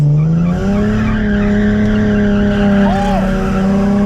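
A Nissan 370Z revs hard under throttle, its loud steady engine drone joined by tire squeal as it skids, with a brief rising whine near the end and people talking over it.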